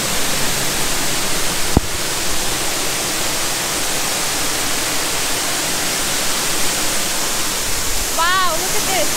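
Bridal Veil Falls roars as a loud, continuous broadband rush of falling water close by, steady throughout, with a brief higher-pitched tone near the end.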